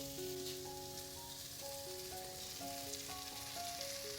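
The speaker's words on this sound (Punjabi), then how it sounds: "ਹੁਣ ਆਪਾਂ ਇਹਦੇ ਵਿੱਚ ਪਾਵਾਂਗੇ ਇਹ ਕਰੇਲੇ" Sliced bitter gourd tipped into a cooked onion-tomato tempering fries with a steady, hissing sizzle like light rain, close and continuous, with faint melodic tones running underneath.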